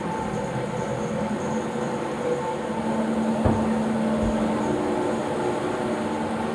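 A 25 kW micro hydro turbine generator hums steadily with a broad rumbling drone and a faint whine, like machinery in a powerhouse, with a dull knock partway through.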